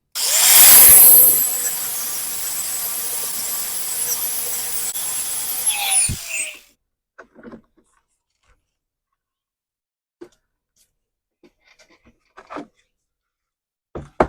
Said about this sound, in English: I might grind that down a little bit so we don't have any rub against the wheel